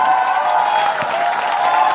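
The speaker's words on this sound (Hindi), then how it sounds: "तालियां बजाइए" Steady applause from a large TV debate studio audience fills the room, dense and continuous throughout, with a faint murmur of voices underneath.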